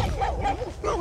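Several dogs near a railway line at Remetea Mica give short, close yapping barks and whimpery yelps in a brief rapid burst over rumbling outdoor noise.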